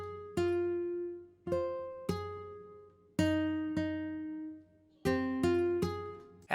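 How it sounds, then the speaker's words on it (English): Plucked guitar notes ring out one after another in a slow, uneven melody, each attack decaying before the next, with a quick cluster of plucks near the end. "Next thing, I have this guitar, it sounds like this."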